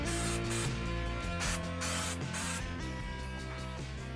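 Spray adhesive hisses from an aerosol can onto two pieces to be glued during an International 1110 pickup truck build. Several close, loud hissing bursts run back to back for about four seconds.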